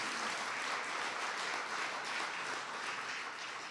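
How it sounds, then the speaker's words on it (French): A conference audience in southern Québec applauds steadily, a dense, even wash of many hands clapping at once for the whole stretch, with no voices above it. "Oui, on peut l'applaudir."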